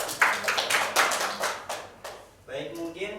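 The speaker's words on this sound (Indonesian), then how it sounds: "Beri tepuk tangan untuk kelompok 2 ya" A classroom group applauds a student discussion group during a microteaching session: a short burst of scattered claps that fades over about two seconds before a voice starts speaking.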